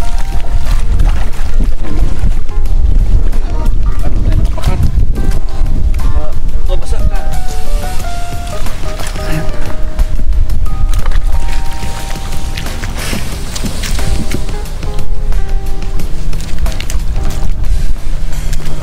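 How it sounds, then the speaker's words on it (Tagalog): A boat ride on the sea off Calatagan, Batangas, with loud continuous engine drone, splashing water and wind buffeting up close, and people talking over it. "sasakay tayo ng bangka"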